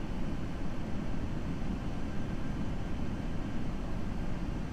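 Steady broadband engine roar of an FSLabs A320 airliner in the Prepar3D flight simulator, a continuous loud rumble with no talking and no change in level.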